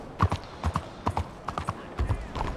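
Horse hooves in the video game Red Dead Redemption 2 clip-clop in a steady rhythmic gait, a dozen or so distinct close hoof strikes in pairs, fairly loud and alone.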